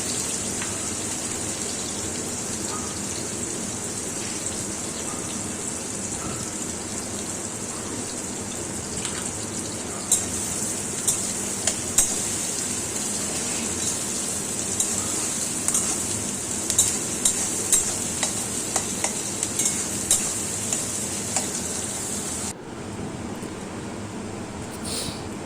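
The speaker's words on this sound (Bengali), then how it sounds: "পেঁয়াজগুলো দিয়ে আমি হাই ফ্লেমে পেঁয়াজগুলো ব্রাউন করে ভেজে নেব" Sliced onions fry on a high flame for a chicken curry, giving a steady close sizzle like light rain, with occasional sharp clicks from stirring, no talking.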